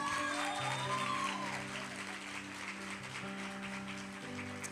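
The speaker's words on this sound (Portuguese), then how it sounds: "Então dá um aplauso ao nome de Jesus." Church audience applauding at a worship gathering, a sustained mass of clapping that holds steady for several seconds, with organ-like tones and music running underneath.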